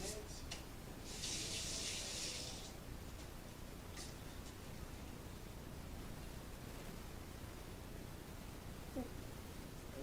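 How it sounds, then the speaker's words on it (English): Hands are washed under a running kitchen tap, a faint steady hiss of water with a brief louder gush early on, heard at a distance. "Wash my hands."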